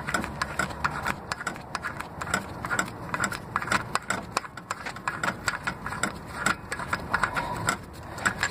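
A long starter bolt on a Toyota comes out with steady ratcheting clicks, many turns of rapid, close mechanical ticking and rattling, fairly quiet and without voices.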